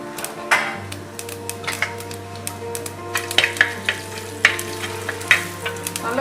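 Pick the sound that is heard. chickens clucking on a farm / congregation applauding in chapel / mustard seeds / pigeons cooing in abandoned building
mustard seeds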